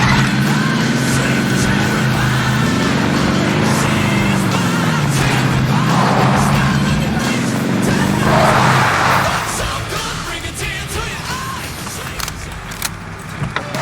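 Vehicle driven in the video game Warzone Caldera: a steady engine drone with rising and falling revs and some tire skidding, loud and continuous, easing slightly toward the end.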